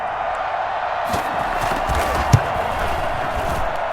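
A stadium crowd in Madden NFL 21 roars and cheers in a continuous wash of noise after a big play, with a sharp thump partway through.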